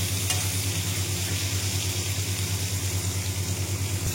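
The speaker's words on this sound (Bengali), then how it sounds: "দেখো এটাকে ভালো করে ভেজে নিয়েছি" Fish frying with tomatoes in oil in a wok, a steady, even sizzle that carries on without a break the whole way through and is heard on its own with no talking.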